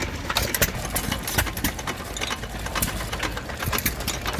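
A circa-1940 enclosed-crank petrol stationary engine runs steadily at a vintage engine rally, giving a rapid, even mechanical chatter with light clattering and crowd noise behind it; no one talks over it.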